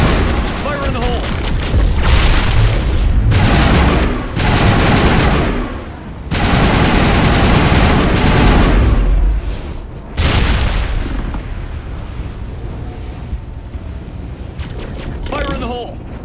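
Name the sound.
grenade explosions and gunfire in Mass Effect video game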